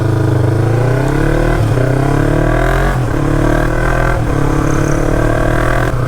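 A Yamaha MT-03 motorcycle with a full exhaust and no silencer revs loud and close, its deep engine note rising in repeated throttle pulls.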